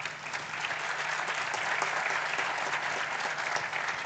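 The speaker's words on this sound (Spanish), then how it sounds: "Este aplauso ha sido muy flojito" Applause from an audience at a cultural forum, steady and fairly thin, a dense patter of claps holding at an even level for about four seconds without building or swelling.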